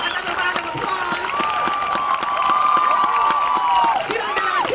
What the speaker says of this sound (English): let's give Jamia another round of applause